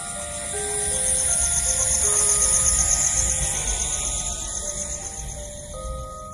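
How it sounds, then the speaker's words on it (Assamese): Dense chorus of crickets chirping at night in darkness near a bamboo grove, a continuous shrill trilling that swells louder in the middle and eases toward the end, with no voices. "মাথো গুণগুণাই থকা জিলিৰ শব্দ"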